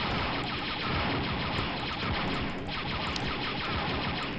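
Steady, dense gunfire from the Star Wars: Dark Forces video game, set at a secret base on hard difficulty, with a continuous rattle of blaster shots and small bursts layered over each other, loud and unbroken with no voices.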